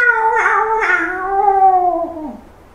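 A person's voice imitating a cat, producing a drawn-out, rising-then-falling meow in place of a roar, loud and close, alone with no other sounds.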